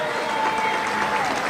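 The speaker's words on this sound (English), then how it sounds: "Let's give them a big cheer." A crowd cheers and claps for athletes at a celebration event, a dense, steady wash of applause with a few voices rising in the mix.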